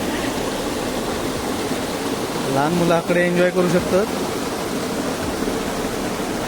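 Water pours steadily over a dam in the Konkan countryside, a loud, constant broadband rush filling the scene, while someone speaks briefly over it in the middle.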